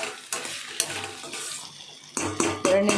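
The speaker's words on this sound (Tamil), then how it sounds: "இப்போ நம்ம அதை எடுத்து கிளறி விடலாம்." Potato fry gets stirred in a pan, with a spoon scraping and clinking in bursts over a soft sizzle, the strokes growing louder toward the end; no one speaks.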